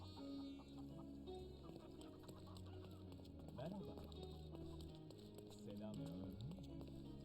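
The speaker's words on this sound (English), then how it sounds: "Oh, chicken!" Clucking chicken from the Sherlock Holmes: Chapter One video game, short bursts of fowl calls rising over steady in-game music and ambience, with a voice murmuring underneath.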